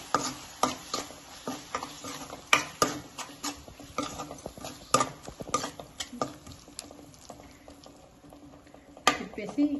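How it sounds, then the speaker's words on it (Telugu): Repeated scraping and knocking of a spoon stirring thick spinach and garlic paste in a pan, irregular and close, over a soft bubbling sizzle. "పేస్ట్ అంతా వేసుకున్నాం కదా, చక్కగా తిప్పేసి"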